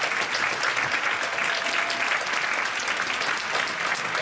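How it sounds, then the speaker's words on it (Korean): A church congregation at a Friday overnight worship service applauds steadily, a dense, even wash of clapping that holds loud and unbroken throughout. "우리 중고동부를 위해서 박수 한번 치겠습니다"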